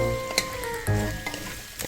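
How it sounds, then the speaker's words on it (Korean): Sundae, Korean blood sausage, stir-fried in a pan with a splash of cooking wine for a home-cooked sundae bokkeum, giving a steady close sizzle with a few sharp bursts and a tonal hum underneath. "이렇게 볶으시다가 맛술을 그냥 한 번만 둘러주세요"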